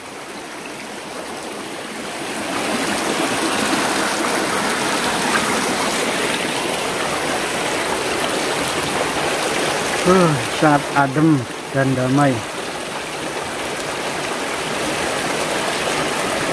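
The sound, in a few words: trickling stream water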